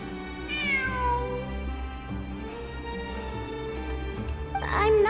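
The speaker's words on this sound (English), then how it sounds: "It really is a cat." A cat meows within the video game Genshin Impact during ruins exploration, several rising and falling cries over a bed of game music, with a last louder meow near the end.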